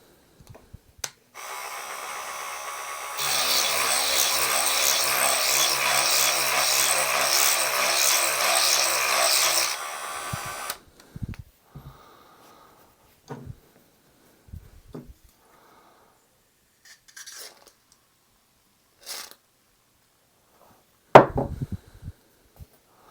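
A power tool cuts away material inside an AR-style bolt carrier group, resizing the bore that holds the extractor spring; a loud steady whine runs for about seven seconds and then stops, leaving scattered faint clicks and handling noises.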